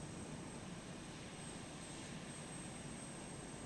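A Eurofighter Typhoon jet in a flight simulator game gives a steady, loud engine roar with a broad rushing hiss that holds unchanged throughout, with no voices.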